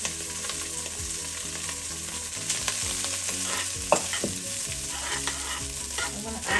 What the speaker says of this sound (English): I'm gonna add some rice at a time, and you can hear it sizzling.